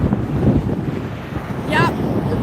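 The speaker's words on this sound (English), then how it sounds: "Yep, windy up on the hill." Strong wind gusts buffet the microphone on a hilltop beside a LAX runway, a loud, steady low rumble that swells and eases, with a brief higher whistling tone partway through.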